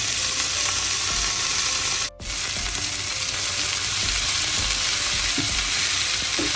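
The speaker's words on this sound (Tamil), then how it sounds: "இதில் இந்த வெங்காயம் பச்சை மிளகாயை சேர்ப்போம்." Onion and green chilli fry in hot oil in a pan with a loud, dense, continuous sizzle, close up, with one brief dropout and a few light stirring knocks.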